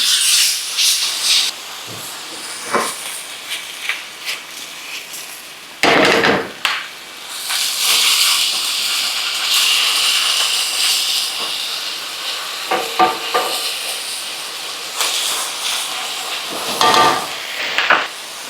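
Beef and bok choy brown in a hot wok with bursts of loud sizzling hiss, broken by scraping and clanking of a utensil stirring against the metal.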